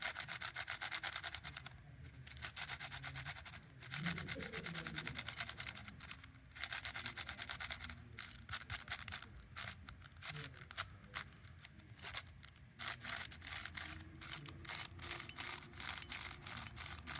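A brand new MGC 5x5 speed cube, still wrapped, is turned continuously for about seventeen seconds, giving dense rapid clicks and rubbing plastic scrapes in irregular bursts, close up, with no talking.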